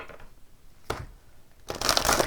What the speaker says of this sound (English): Get a good shuffle here for you.